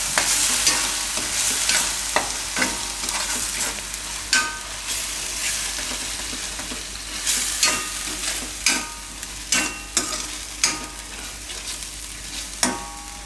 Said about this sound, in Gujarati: મેથીને થોડીક વાર પાકવા દઈશું એમાં.